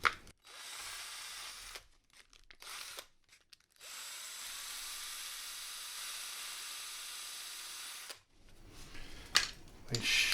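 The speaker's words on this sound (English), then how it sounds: "we'll now just sand these lightly" Light sanding of scrap redwood and pine shelf pieces gives a steady soft hissing power-sander drone in several bursts separated by short pauses, fairly quiet and close.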